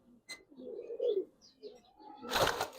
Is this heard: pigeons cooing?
yes